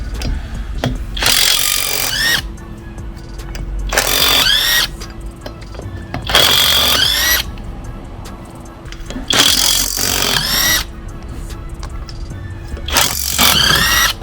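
A Stromo cordless impact wrench works on a nut in loud repeated bursts of rattling hammering, about five runs of a second or two each, separated by quieter pauses.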